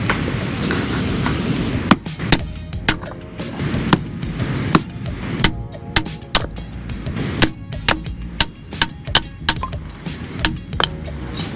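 Pecan firewood split on sand, repeated sharp chopping impacts at irregular intervals over a low continuous rumble, with several close, loud hits in quick succession later on.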